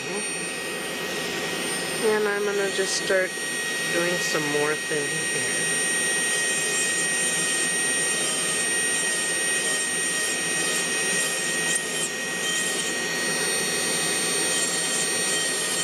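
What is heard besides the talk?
dust collection system running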